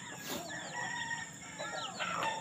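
Chickens on a backyard farm, including a mother hen with her chick and one sick bird, crow and cluck in a busy overlapping mix, fairly close and loud throughout.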